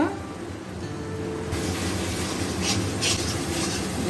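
Egg korma masala being stirred and cooked down in a pan, a steady soft scraping and rubbing that runs continuously at close range, with a faint sizzle underneath and no voices.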